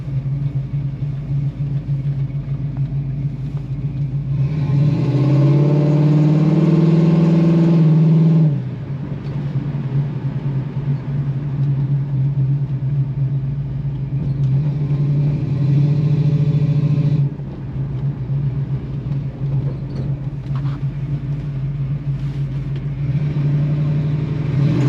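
A 1964½ Ford Mustang with the F-code engine drives along with a steady, loud low rumble, swelling into a stronger rev for a few seconds before settling back to cruising, with no voices.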